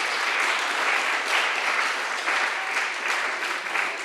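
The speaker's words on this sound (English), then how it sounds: "applaud yourselves because it's worth it" Sustained audience applause at a European Innovatory SpeakOut Day feedback session for young people's presentations. Dense, even clapping fills the whole stretch at steady loudness, with no talk over it.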